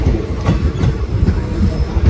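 A train rolls into Gomangalam railway station, its wheels rumbling and clattering in a rhythmic clickety-clack, loud and close.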